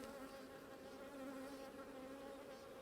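Newly introduced nurse honey bees buzz inside a beehive, a steady, close, continuous droning hum with no breaks and no voices.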